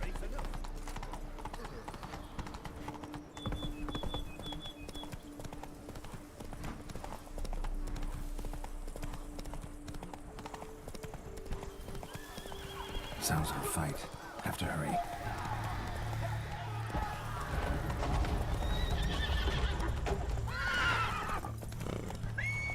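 Roach the horse gallops in The Witcher 3: Blood and Wine, with steady rhythmic hoofbeats throughout and a whinny. A voice speaks over it, along with some whispering and ambient game sounds.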